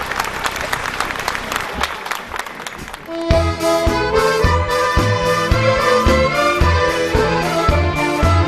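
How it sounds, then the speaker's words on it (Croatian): An audience at a sevdah music institute applauds a young singer, dense clapping for about three seconds before it gives way to the accordion and band striking up a song, the music continuing loud and rhythmic. "Jedan aplauz za mladića lijepog."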